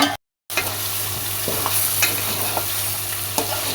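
Chicken and potatoes frying in mustard oil are stirred in a pan, with a steady sizzle broken by scraping spoon strokes after a brief silent gap at the start.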